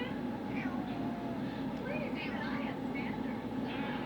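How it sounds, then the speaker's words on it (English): A pet cat meowing indoors, a few soft, short mewing calls rising and falling, faint and partly under a person talking over a low steady hum. "And my kitty is here too."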